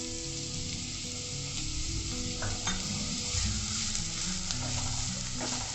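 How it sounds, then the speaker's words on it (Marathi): Finely chopped onion sizzles steadily in a tablespoon of oil in a pan over a medium flame, with occasional stirring scrapes over a continuous close frying hiss. "त्यात मी 1 टेबलस्पून तेल घालते आणि त्यावर हा 1 वाटी बारीक चिरलेला कांदा घालते मी"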